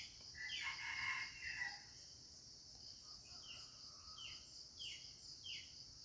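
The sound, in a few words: escaped wild junglefowl rooster crowing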